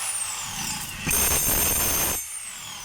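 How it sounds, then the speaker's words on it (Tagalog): A DeWalt D25032 rotary hammer whines briefly, then hammers loudly for about a second with a dense rapid pounding, and winds back down to its motor whine, close up with no voices. "para malaman natin kung gumagana yung hammer, i-testing natin sa hammer mga kabay"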